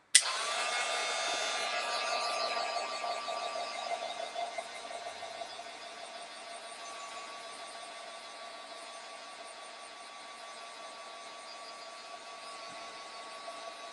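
A heat dryer drying a mixed media art card gives a close, continuous whirring blow with a faint whine. It starts abruptly, is loudest for the first two seconds, then settles into a steady, slightly softer hum.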